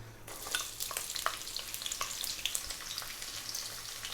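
Chopped onion frying in hot oil for mushroom fried rice, a dense close crackling sizzle with sharp pops throughout and occasional stirring.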